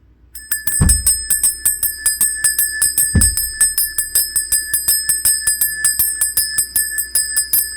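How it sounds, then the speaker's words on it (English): A handheld bell is struck twice, then rung in a steady rapid ringing that keeps going, bright and close with long overlapping metallic tones and no voices. "I am going to ring in these blessings by ringing the bell"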